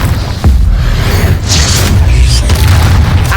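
A Confringo fire spell from Hogwarts Legacy goes off as a sharp, loud boom, followed by a heavy rumbling blast that fills the short stretch with low roar and crackling bursts.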